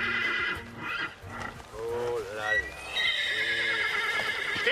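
A horse whinnies loudly in a long, quavering neigh during a cross-country ride, with a second rising call and faint hoof clatter around it.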